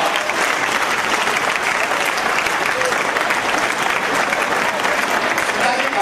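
Thick, continuous applause fills a hall at a Hindi kavi sammelan, many hands clapping loudly and evenly from start to finish.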